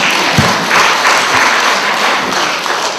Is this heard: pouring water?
no